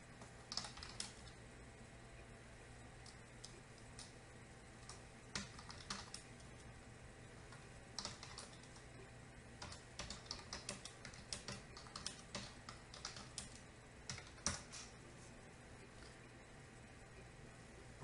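Quiet, steady typing on a computer keyboard while entering data into a table, with irregular soft key clicks running throughout and no voices.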